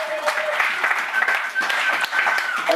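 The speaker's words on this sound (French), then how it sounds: "Amen, acclamons le Seigneur." A church congregation claps and cheers in worship, a dense, continuous wash of applause mixed with shouting voices, loud and filling the room throughout.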